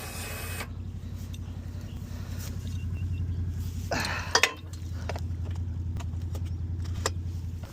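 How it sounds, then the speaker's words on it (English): A vehicle winch pulls a stuck vehicle out of a boggy spot with a steady mechanical motor whine and low rumble, plus a short clank midway, near and continuous. "We're gonna try to winch ourselves out."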